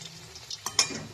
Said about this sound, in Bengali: এক পিঠ ভাজা হয়ে গেছে, এবার আমি এটাকে উল্টে দেবো।